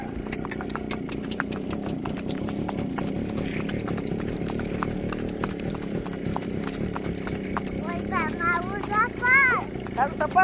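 A mare being led home, her hooves clip-clopping in a steady, close rhythm over a low engine hum, while people and children talk in the background.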